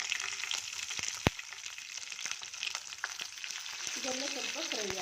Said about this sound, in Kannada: ಇದೆಲ್ಲ ಸ್ವಲ್ಪ ಫ್ರೈ ಆಗಿ ಚೆನ್ನಾಗಿ